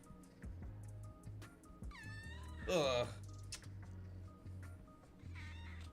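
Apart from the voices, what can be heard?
cat meowing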